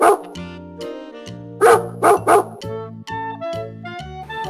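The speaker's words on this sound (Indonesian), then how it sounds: "anjing," A dog barks in a short series of sharp, close yaps, with a few softer whines mixed in, all over a steady musical backing.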